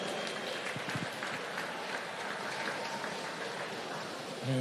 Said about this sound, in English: A big round of applause for our winner, Madeline McTurnan